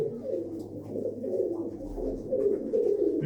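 Pigeons in a loft give a low, continuous cooing, soft murmuring calls rolling on steadily and close by with no talk.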